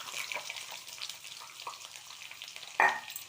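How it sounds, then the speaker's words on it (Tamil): Onions fry in a pan over a low flame, a faint steady sizzle with light stirring scrapes and one sharper clatter near the end. "இந்த வெங்காயத்தை இதோடு சேர்த்துடலாம்."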